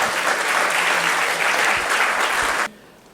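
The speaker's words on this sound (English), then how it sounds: "Give us a big round of applause for the vision of the Prime Minister" A loud, dense round of audience applause at an IFHE Hyderabad event on Viksit Bharat 2047, sustained clapping that cuts off sharply near the end into quiet room tone.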